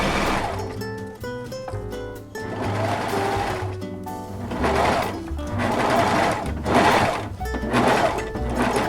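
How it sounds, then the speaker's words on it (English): A domestic sewing machine stitches elastic onto a thong girdle, running in a steady close-up whir with short pauses and changes in speed, and no voices. "I'm just going to sew right off of that."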